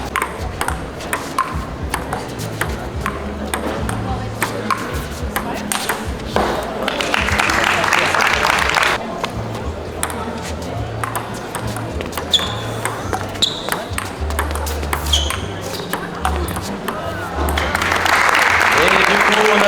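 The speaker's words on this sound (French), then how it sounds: "Et du coup on applaudit." An audience claps after a table tennis match, steady applause running the whole way through with people talking over it and occasional ball pings in the background.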